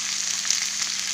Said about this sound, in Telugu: మొత్తం ఫ్రై చేసుకోవాలి.